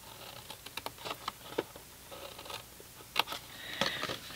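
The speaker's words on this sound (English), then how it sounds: "And you're just cutting to the first score line on each, like so." Scissors cutting the tabs of a paper gift box down to the score line, a series of short, crisp snips close up and fairly quiet, spaced unevenly.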